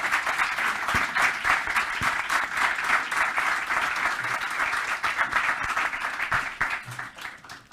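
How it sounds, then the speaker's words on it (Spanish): Sustained audience applause at a Catholic public-life congress honouring its speakers, a dense even wash of many hands clapping steadily throughout, with no talk over it. "otorgando el debido y correspondiente aplauso"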